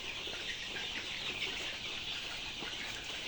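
A batch of about 3000 layer pullets, around 40 days old, clucks and chatters on a farm, a dense, faint, continuous chorus of many birds with no single call standing out.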